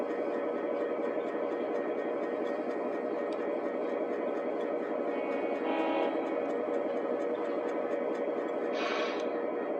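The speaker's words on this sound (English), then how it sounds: "Need a helper on that train, do we?" A train rolls steadily on its rails in a continuous, loud rumble with a rhythmic rattle of wheels, a brief hiss midway and a higher burst near the end, with no talking.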